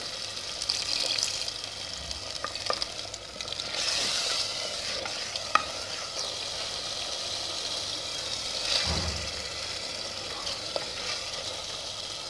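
Potatoes sizzle in a pan of spiced masala as a little water is added, a continuous close frying hiss with stirring scrapes and a brief louder surge partway through.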